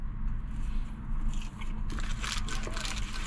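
Fast-food French fries are bitten and chewed close to the mouth, giving soft crunches over a low steady background hum.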